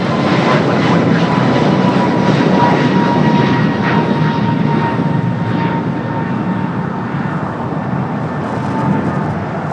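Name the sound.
airliner taking off from runway 25 right at LAX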